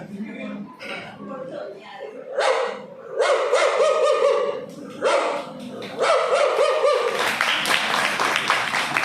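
A performer imitates a dog in a mimicry act, barking in short repeated bursts, rough and fairly loud, with other voices and noise around it.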